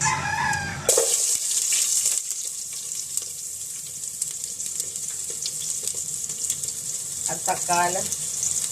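Cooking oil sizzles in a pan while garlic, ginger and ingredients for a mussel soup are sautéed, a steady bright crackling hiss after an abrupt start, with a rooster crowing nearby and a voice speaking briefly.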